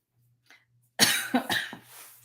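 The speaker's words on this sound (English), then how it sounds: "sorry for the cough" A single close cough bursts out, followed by a couple of smaller throat-clearing coughs, after a brief faint sound.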